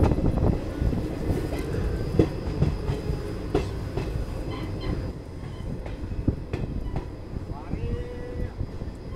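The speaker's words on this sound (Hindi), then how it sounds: "पहला हॉल्ट जो है ये धानेरा रेलवे स्टेशन है जहाँ हम पहुँच रहे हैं" A passenger train on a rural Rajasthan line pulls into Dhanera railway station. A loud, continuous rolling rumble carries repeated wheel clicks and a brief squeal near the end.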